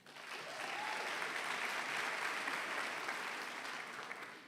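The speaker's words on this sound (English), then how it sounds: "a hand clap for that." Graduates at a university ceremony clap for themselves, a broad steady roll of many hands rising quickly and holding evenly, slightly distant in a large hall.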